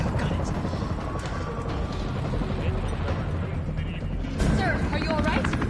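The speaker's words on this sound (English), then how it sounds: "There's a helicopter waiting to take you to safety." Helicopter in Resident Evil 3 on a parking garage roof, a steady rumbling rotor drone under voices and game effects, with a louder burst of noise near the end.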